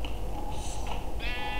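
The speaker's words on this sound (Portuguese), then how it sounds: "me transformei na ovelha" Sheep in a survival video game bleat in short, wavering calls over a steady low background hum, fairly near and without talk.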